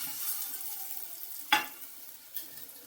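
Spices with salt, chili and garam masala cooking in a pan with fox nuts for a makhana snack, a soft low sizzle with one sharp scrape and a lighter knock near the end.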